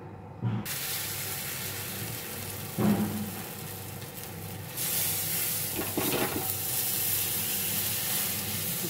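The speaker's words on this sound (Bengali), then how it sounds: "এবার ব্যাটারটা তাওয়ায় দিয়ে দেবো।" Batter is poured onto an oiled tawa griddle and sizzles in a steady, broad hiss that grows louder about halfway through, with a few brief scraping bursts and no voices.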